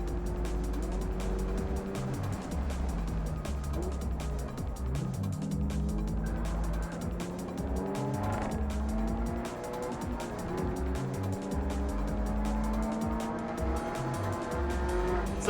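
Cars on the Laguna Seca race track, including a BMW E46 and a Subaru BRZ tS, roar continuously with engines revving through gear changes and tires squealing through turns, loud and close, heard from inside a car.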